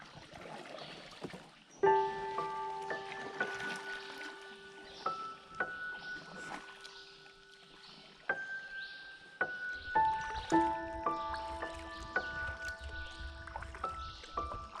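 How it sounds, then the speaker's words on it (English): Kayak paddling on jungle water, soft intermittent splashes and drips of the paddle under a dense layer of loud jungle birdsong and insect calls, with no talk. "jump into the kayak, because then we can hear the sound of the jungle"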